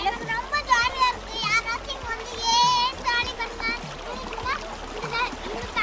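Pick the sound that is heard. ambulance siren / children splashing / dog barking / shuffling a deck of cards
children splashing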